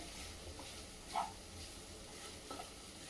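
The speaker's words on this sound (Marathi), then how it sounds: "अशा पद्धतीने चांगला हलवून घ्यायचा फ्राय करायचा" Sweet potato sheera for a fasting day sizzles in a hot pan while it is stirred, with a low, steady frying hiss and a couple of faint scraping knocks. No one speaks.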